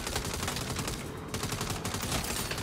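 Continuous automatic gunfire from the Saints Row video game rattles in dense, unbroken bursts with barely a pause, sustained and loud throughout, with no talking over it.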